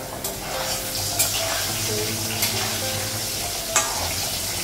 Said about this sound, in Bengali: এদিকে হচ্ছে আলুটা ভাজা করছি